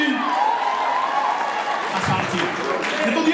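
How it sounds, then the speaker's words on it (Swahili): An audience claps in a steady wash of applause that holds through the whole stretch and swells briefly near the end. "tumpigie makofi mazuri."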